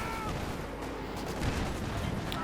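Scattered infantry small-arms fire from a Company of Heroes 2 battle, faint sporadic pops and cracks over a low rumbling battlefield background.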